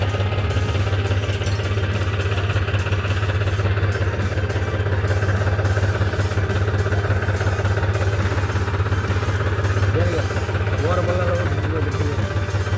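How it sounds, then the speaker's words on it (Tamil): A farm vehicle rolls downhill during millet sowing, its engine chugging with a steady low rumble and rattling clatter throughout, while people talk over it. "வண்டி அப்படியே கீழே இப்போ இறங்குதுங்க"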